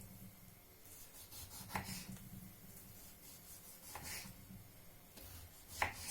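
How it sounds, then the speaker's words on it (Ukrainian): A knife slices repeatedly through firm beetroot, with scraping cuts and a few sharper knocks against a board, close and quiet. "Спочатку так кілечками, а потім беру ось такими полосочками."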